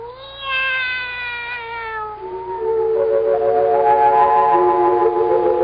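A black cat meows in a radio drama, a long falling meow followed by a second drawn-out, wavering meow, close and loud with no talk.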